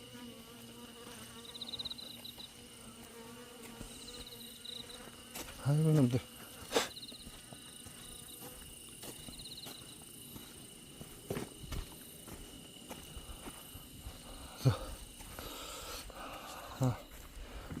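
Asian honeybees kept in a Western-style hive box with adjusted frame spacing make a steady, close insect buzz throughout. A man's brief exclamations and a few handling knocks are heard over it.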